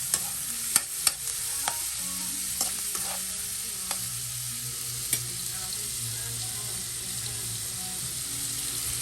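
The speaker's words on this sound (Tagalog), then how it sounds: "pinafried na natin yung taba ng manok" Chicken skin and fat fry in a pan to render oil, a steady close sizzle broken by a few sharp clicks and scrapes of a utensil, with no talking.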